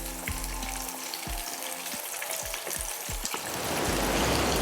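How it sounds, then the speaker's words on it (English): Shrimp fry in hot oil with a dense, steady sizzle, punctuated by low thumps and bumps from the pan, the bubbling growing louder and brighter toward the end. "So let's cook our shrimp. It only takes about a minute and a half until they're golden brown."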